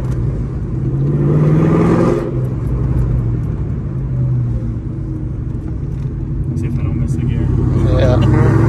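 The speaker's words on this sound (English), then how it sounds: "He took me for a ride, and then he even let me drive it too as we tested out the T56 Magnum." Car fitted with a T56 Magnum manual transmission driving on the road, a steady loud engine rumble rising with revs under a broadband roar, with people talking over it throughout.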